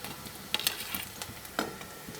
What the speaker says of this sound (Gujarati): તેને ગુલાબી રંગની થાય ત્યાં સુધી થોડી સાંતળીશું